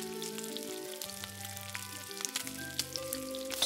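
Chopped garlic sizzles in hot oil while paneer chilli is being cooked, making a continuous crackling fry. Steady tonal hums run underneath, and there is no talk.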